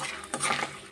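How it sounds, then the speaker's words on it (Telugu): Peanuts frying in a pan for a sesame tamarind stew and okra fry, with short bursts of stirring, scraping and light sizzle close by, ending in a sharp clatter. "ఈ మూకుట్లోనే వేరుశెనగ గుళ్ళు అయితే ఫ్రై చేస్తున్నాను"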